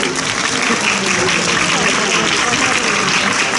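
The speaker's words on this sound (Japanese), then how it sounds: "皆様大きな拍手でお迎えください" Audience applause welcoming guests onto the stage at a Sekigahara warlord series photo session event, a dense, steady wash of clapping at even loudness throughout, with no clear gaps.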